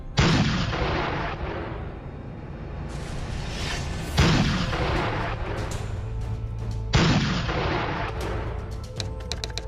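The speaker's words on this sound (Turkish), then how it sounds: "İsmet Paşa top ateşine başladı." Artillery guns opening fire at dawn in the Turkish War of Independence, Ismet Pasha's barrage: three heavy booming shots spaced a few seconds apart, each with a long rumbling decay, loud and without talk.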